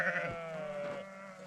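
A sheep in the Balkan mountains gives one drawn-out, wavering bleat, close and clear, trailing off into quiet within about a second.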